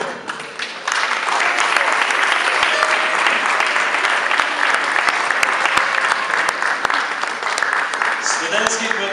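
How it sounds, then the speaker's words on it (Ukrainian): An audience in a theatre bursts into applause at a student theatre awards evening, a loud sustained wall of clapping that starts after a brief moment and carries on for the whole stretch. Voices can be heard through it. "під ваші оплески"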